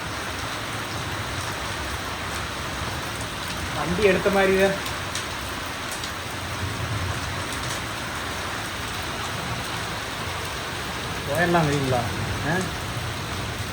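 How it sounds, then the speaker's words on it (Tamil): Heavy rain pours down steadily during a hailstorm at a farm with a spinach garden, a dense hiss filling the whole stretch, while people talk briefly at a couple of points. "நல்லா பெய்யுது மழை"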